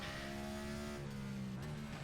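A race car in iRacing at Martinsville drones steadily, its engine pitch sliding down as the throttle eases mid-corner, then climbing slightly again; the engine sound is continuous and fairly quiet, with no talking.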